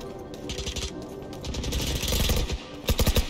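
Rapid bursts of automatic gunfire in the shooter game Valorant, several loud close volleys with short pauses between them.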